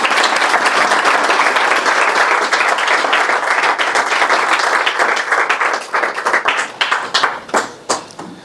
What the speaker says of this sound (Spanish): vamos a recibirle, si os parece, pues con un aplauso